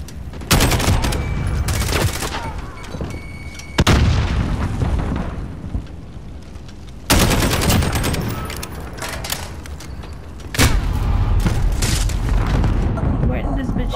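Heavy gunfire in Call of Duty: Modern Warfare on the Crash map, with loud booming shots and rapid bursts arriving in several waves, dense and close, while a voice talks over the action.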